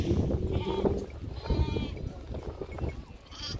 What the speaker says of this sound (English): Let me go this way, there's a lot of goats here.